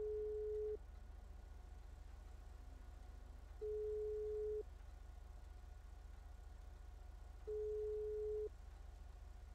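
Phone ringing tone during a call in GTA RP, three long steady beeps separated by pauses, heard over a constant low engine hum.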